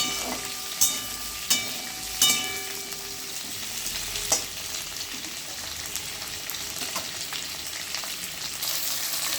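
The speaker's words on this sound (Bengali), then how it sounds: "আলুগুলো একটু ভাজা ভাজা হলে আমি দেব পটলগুলো।" Potatoes frying in a pan give off a steady sizzle and crackle, broken by several sharp clicks and scrapes of a utensil stirring, close and fairly loud with no talking.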